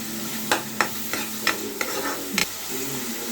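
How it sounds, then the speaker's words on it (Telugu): A paste of onion, tomato, coconut and cashew fries in a pan for an egg curry, with a steady soft sizzle broken by a few sharp spoon scrapes and stirring taps. "బాగా ఫ్రై అవుతుంది."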